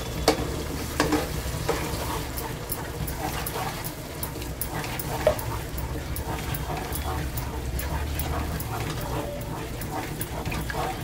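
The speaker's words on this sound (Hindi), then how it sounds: "दही डाल के भी हम इसको बहुत अच्छे से भूनेंगे मसाले को" Spices frying with yogurt for achari dahiwali bhindi (okra), a continuous sizzle with repeated clicks and scrapes of a spoon stirring the pan, with faint background noise.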